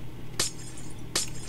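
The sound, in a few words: glass blocks being broken in Minecraft, video game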